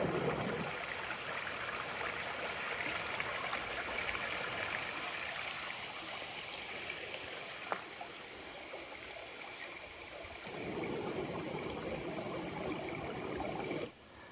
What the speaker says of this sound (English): Your morning water feature is brought to you by Brassy Brook.